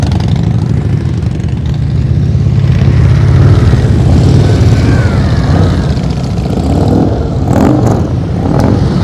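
A Harley-Davidson Fat Boy motorcycle rolls at slow speed during a practice session, its engine a steady loud low rumble with mild throttle changes throughout, up close.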